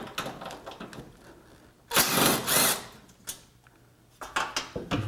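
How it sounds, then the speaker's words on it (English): An impact gun fitted with a 12 mm socket zips bolts off a Honda Civic in a sharp burst of rattling hammering, followed by shorter bursts, with quieter clattering in between. "I've got a 12 millimeter socket on my gun and a 10 millimeter with an extension"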